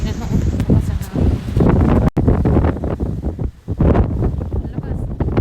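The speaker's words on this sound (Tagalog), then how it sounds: "Tingnan mo, lakas ang hangin." Strong wind gusting outdoors, a loud continuous broadband roar with rumbling buffeting against the microphone, with someone talking over it throughout.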